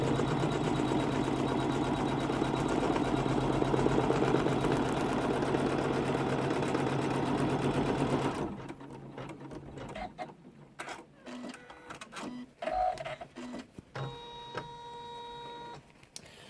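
Embroidery machine stitching the lining onto a curved zip pouch, a steady loud mechanical hum and rapid needle beat for about eight seconds, then stopping, leaving quieter clicks and handling noises.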